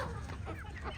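A hen clucking close by, short throaty notes over a steady farmyard background noise.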